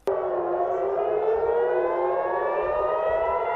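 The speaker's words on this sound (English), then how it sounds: "In Israel, sirens blared throughout the day, a warning to residents to run for shelter." An air raid siren in Israel wails steadily and loudly, its rising and falling tone sustained without pause, heard alone.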